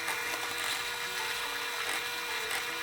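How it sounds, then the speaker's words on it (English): A drill press with a 3/16 inch bit bores pinholes through knife handle scales, a steady high whine running close and unbroken throughout. "we can actually go to the drill press and drill through this"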